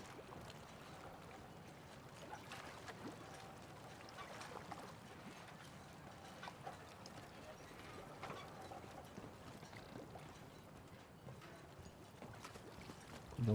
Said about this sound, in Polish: przestańcie tupać